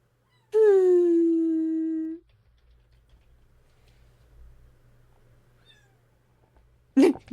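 A cat gives one long, clear, drawn-out meow close by, then quiet room noise follows and a brief second sound comes near the end.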